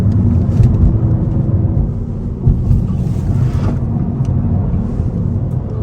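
A 2024 Honda Civic Sport Hatchback held in first gear on twisty roads gives a steady, loud engine drone with road rumble from inside the cabin, unbroken throughout.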